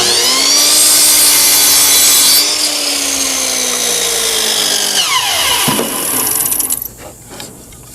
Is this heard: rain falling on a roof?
no